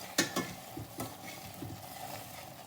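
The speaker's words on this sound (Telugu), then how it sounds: "చూడండి, సెంటర్లో కలుపుకుంటున్నాను నేను." Stirring a stuffed brinjal curry in a pan near the end of cooking: a spoon scrapes and knocks through the thick, gently sizzling curry, with a few sharper clinks at first and then a steady low bubbling, with no talking.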